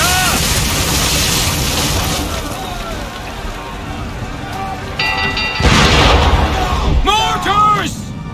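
Mortar fire pounds a ship at sea in Assassin's Creed III, with heavy booming bursts and rumbling impacts, a louder blast near the middle, under shouted battle voices and swelling music.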